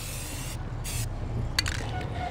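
Rust-Oleum aerosol paint sprays onto a hot rod roadster in two short hissing bursts, with a fainter third burst and light clinks over a steady low background hum.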